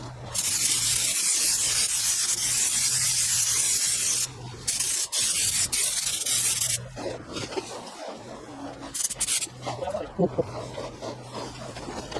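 Spray gun laying base coat paint on a car outside a booth: a loud, steady hiss that breaks off briefly a few times, with some faint voice activity toward the end.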